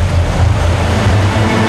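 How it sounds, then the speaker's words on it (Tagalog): Loud, continuous roar of a storm at sea in the Falkland Islands, heavy low rumbling wind and surf with no break across the short stretch. "Disyembre sa Falkland Islands, may bagyo"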